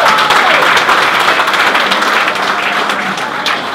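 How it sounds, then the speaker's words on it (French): Theatre audience applauding steadily and fairly close during a stage performance of Marc Camoletti's comedy, a dense wash of clapping that tapers slightly toward the end. "Vous pouvez applaudir."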